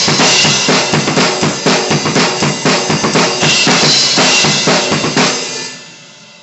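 A loud, dense drum kit groove drives along at a fast, steady pace with crashing cymbals over it, then rings out and fades at the end.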